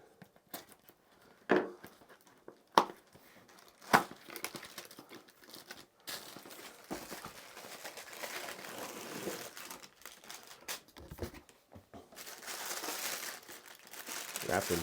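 Plastic packaging of a Glock blowback ejection toy being cut open, with crinkling and tearing plastic close by, a few sharp snips early on, then steady rustling handling noise.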